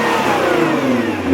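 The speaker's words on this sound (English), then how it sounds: "This does have an aftermarket exhaust system, which we'll go ahead and take a listen to." A 2019 Nissan GT-R Track Edition with an aftermarket quad-style exhaust revs loudly up close, a brief, full-throated rising roar with no voices.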